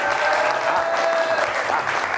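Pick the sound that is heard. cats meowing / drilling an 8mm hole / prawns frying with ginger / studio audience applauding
studio audience applauding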